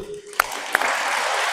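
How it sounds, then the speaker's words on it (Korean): A church congregation in a Catholic parish applauds, beginning with a couple of sharp claps and swelling into steady dense clapping that fills the rest of the moment. "하와의 후손들 박수."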